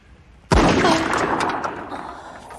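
A single loud gunshot from a fired handgun in a film scene, a sudden sharp blast followed by a long reverberant decay, with no speech over it.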